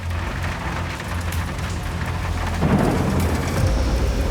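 Torrential nighttime rain pours steadily in Freetown, Sierra Leone, a dense, loud hiss with a deep rolling rumble of thunder swelling partway through.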